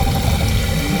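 Water streams steadily through the riveted seams of a Niwra Raptor motorcycle topbox during a water leak test, a continuous rushing, splashing wash close by with no talk.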